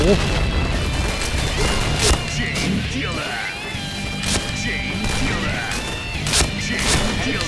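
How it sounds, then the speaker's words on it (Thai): Grenade blasts and crashing impacts in the Point Blank shooter game, heavy bursts recurring amid constant gunfire-like clatter and game noise, with excited voices talking over the action throughout. "ปาระเบิด โอ้โห"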